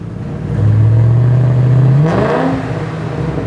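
A BMW V8 swapped into a Volvo P1800, breathing through a tight Ferrita exhaust with twin tailpipes, revs up sharply and holds a loud, steady high note close by, then drops back to a rumbling idle.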